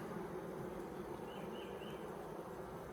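Honeybees in a Layens hive open for inspection give off a faint, steady droning hum, with a few individual buzzes drifting past close by.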